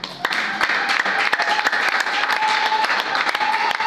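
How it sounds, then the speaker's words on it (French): Audience applause at a literature event in the DRC; sustained, fairly close clapping from a crowd runs the whole time with dense, irregular hand claps and no break. "Est-ce qu'on peut continuer à encourager, à applaudir?"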